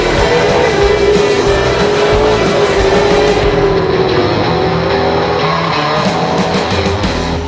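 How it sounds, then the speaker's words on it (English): A blue Ford Mustang race car at Queensland Raceway roars through a corner while the rear steps out, its engine note loud and sustained with a rising, wavering pitch as it passes. "Cotton using the rear of the car to get it around the corner, wagging the big tail of that blue Mustang."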